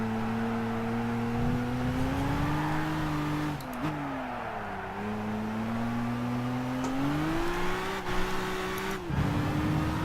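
A race car in the Gran Turismo game, from the 2013 GT Academy practice, drones on a steady engine note that climbs and dips as it accelerates and lifts through corners, with brief breaks at the shifts and no talk over it.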